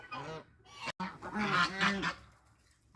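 Homestead geese honk at bedtime, a cluster of nasal calls overlapping in quick succession at moderate distance, fairly soft and then fading to quiet.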